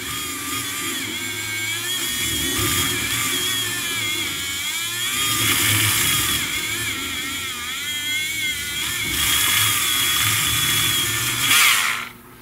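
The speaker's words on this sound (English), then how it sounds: "Sharpen the eraser a little bit." A charcoal drawing eraser being sharpened by a small electric tool gives a steady whirring drone with shifting pitch that runs for about twelve seconds, alone and fairly close.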